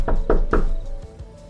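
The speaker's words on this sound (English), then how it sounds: "so I just knocked really hard." Three hard, heavy knocks land in quick succession on a building's front door, loud and close, then a fading resonant tail with no voices.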